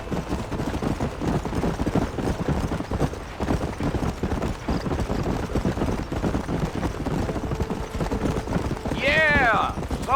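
A horse gallops in the video game Red Dead Redemption, its rapid, rhythmic hoofbeats loud and close throughout, ending with a brief whinny near the close.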